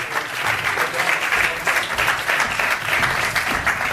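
Loud, sustained applause from an audience at a film premiere screening, dense clapping filling the whole stretch with a few brief swells and no voices on top.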